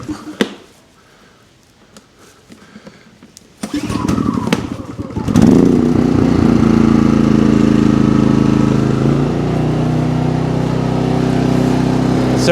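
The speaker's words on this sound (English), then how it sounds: "So let's start up the generator." A PROYAMA 4000 watt portable generator, already warmed up and run without choke, sputters through a start attempt, then catches and settles into a loud, steady engine drone up close.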